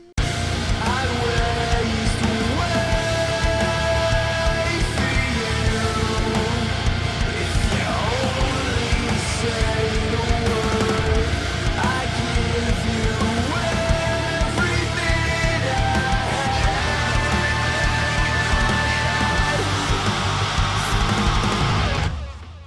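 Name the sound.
heavy shoegaze song with low-tuned guitars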